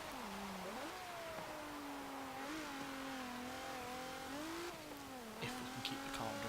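A 1984 Peugeot 205 Turbo 16 in Forza Motorsport 7 revs hard on track, its engine note rising and dipping steadily through gear changes, loud and continuous with no talk.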